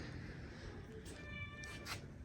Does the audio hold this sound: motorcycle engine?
no